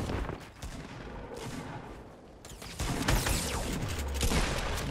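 Pump shotgun gunfire in the video game Fortnite, sharp blasts amid a busy barrage of game shots and impacts, loud and close, with louder bursts in the second half.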